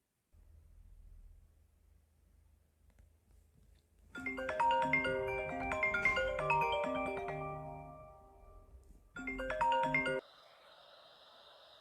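A phone ringtone plays a bright, melodic tune for several seconds, pauses briefly, then chimes again before cutting off, with a faint low hum underneath.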